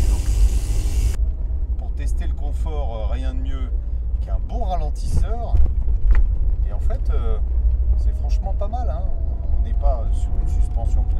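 Peugeot 205 XS car driving over a speed bump, a steady low engine and road rumble with a few soft knocks from the suspension, running under someone talking throughout.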